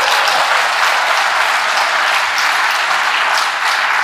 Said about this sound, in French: Vous allez applaudir ça.